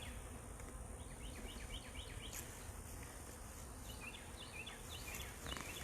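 Honey bees buzz around an open hive during a frame inspection, a faint, steady hum of many insects close by, with light high chirps sprinkled over the drone.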